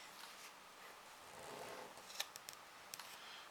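Scissors snipping through a cardboard Halloween box, a soft continuous rasp of blade on card with a few sharper clicks near the end, quiet and close, no talking.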